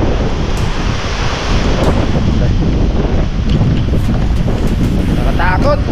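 Strong typhoon wind roars over crashing ocean waves on the Burias Island shore, a loud, continuous rumbling wash with gusts buffeting the microphone throughout and a brief raised voice near the end.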